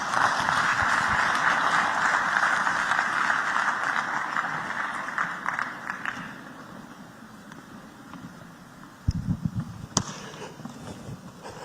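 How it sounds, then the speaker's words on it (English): An audience at the Invest Lagos opening ceremony applauds in a dense, steady burst of clapping that gradually fades after about six seconds, leaving quieter room sound with a few isolated louder knocks near the end. "Another round of applause for Lord Marland there."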